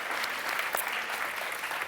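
An audience claps for the fellows of a democracy and technology entrepreneur program after their presentations, a continuous wash of many hands applauding at close range.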